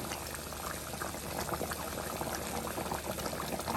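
Tamil fish curry, meen kuzhambu, simmering in a pot, a continuous soft bubbling and gurgling heard close and fairly quiet, with no talking.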